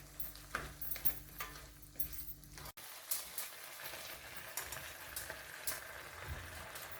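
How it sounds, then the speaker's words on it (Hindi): Pasta tipped into a hot kadhai wok with frying chicken and vegetables: an abrupt shift, then a steady close sizzle with scattered clinks and stirring scrapes. "पास्ता कढ़ाई में ऐड कर दिया है।"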